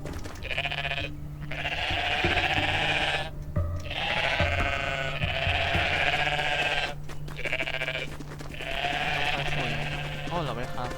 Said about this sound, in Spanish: Oh, la oveja.